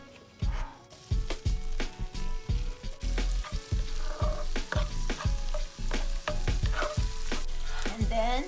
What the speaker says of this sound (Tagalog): We'll saute the garlic.